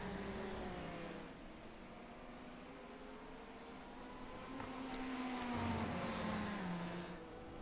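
Race car engine droning steadily in the iRacing sim during an IMSA race at Road America, its tone sliding through gear changes with upshifts and downshifts under braking, loud and continuous.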